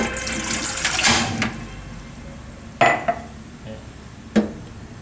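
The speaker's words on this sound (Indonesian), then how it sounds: "masukkan 2 gelas air." Two glasses of water poured into a pot of dewandaru leaves, a splashing pour at the start followed by a few sharp knocks of the glass or pot, fairly close with no talk.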